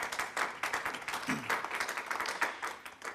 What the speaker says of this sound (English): let's give this group a big round of applause